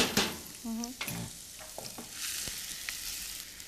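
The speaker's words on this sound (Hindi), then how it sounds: "तेल जैसे गर्म हो जाए भून लेते हैं" Sliced mushrooms frying in hot oil, bursts of sizzling with stirring scrapes and clatter from a spatula, close and alone.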